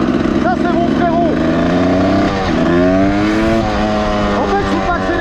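A Honda CR250 two-stroke motorcycle engine revs close by, its pitch rising and falling in uneven surges while being tuned, with voices talking over it.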